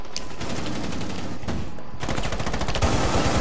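Rapid bursts of automatic gunfire in the video game Rainbow Six Siege, loud and close, with dense repeated shots and a brief pause partway through.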